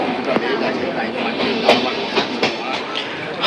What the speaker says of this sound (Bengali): হাওড়া জাংশন থেকে আমাদের ট্রেন 177 কিলোমিটার পথ চলে সাঁইথিয়া জাংশন থেকে এই সবে ছাড়লো